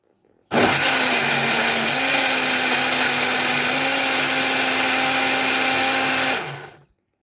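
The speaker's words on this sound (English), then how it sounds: "So I'm going to blitz this down a little bit and then add some more ingredients and blitz." Small blender blitzing tikka masala curry ingredients made with leftover turkey, a loud steady whirring motor running continuously for about six seconds before spinning down, heard on its own.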